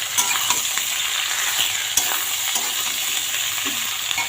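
Mixed vegetables being stirred in hot oil, a steady close sizzle broken by scraping spatula strokes and small knocks against the pan, with no voices.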